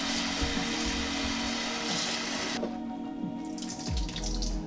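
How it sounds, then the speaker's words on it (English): Salted cabbage for kimchi being rinsed under a running kitchen tap, a continuous loud rush of water with splashing and shifting tone as the leaves move under the stream. "So make sure to give that a really good rinse."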